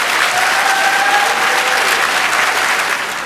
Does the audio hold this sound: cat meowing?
no